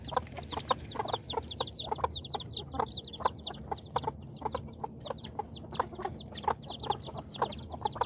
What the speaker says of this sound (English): Baby chickens are doing wonderfully.